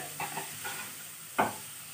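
Faint sizzling from a pan of frying ingredients, broken by a few soft scrapes of stirring, with one sharper scrape near the end.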